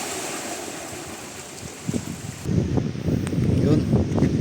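Big sea waves surge and wash at Barangay Sisiman, a steady roar of surf growing louder and nearer halfway through, with wind noise on the microphone.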